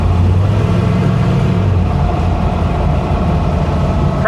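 A 1966 Chevy Impala on the road carries a faint steady whine above a low, constant engine and road drone, heard from inside the car.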